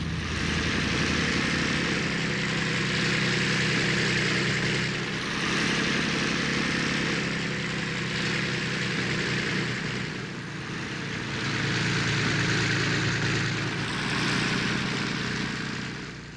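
A Douglas A-1 Skyraider, a U.S. Navy propeller-driven attack aircraft, roars with a loud, steady piston engine drone that swells and eases in slow waves throughout, close and continuous with no voices.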